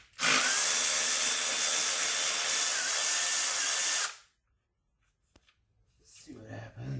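A power tool backs out a valve cover bolt on a BMW E90 with the N52 engine, giving a loud, steady, high whirring burst lasting about four seconds that stops abruptly, followed by quiet and faint voices.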